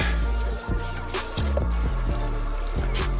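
Water from a water-fed pole sprays and splashes across an old window during a rinse, a steady wash of spray with a few drips over a constant low hum.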